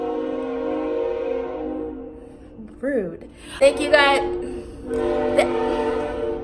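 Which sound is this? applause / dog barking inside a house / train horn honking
train horn honking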